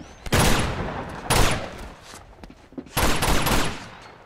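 Bursts of automatic gunfire in the video game Uncharted 2: Among Thieves, three loud sustained volleys separated by short pauses, close and harsh.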